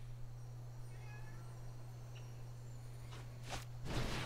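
A cat gives a couple of faint meows over a steady low hum, followed near the end by brief louder rustling bursts.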